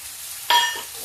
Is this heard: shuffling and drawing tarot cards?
no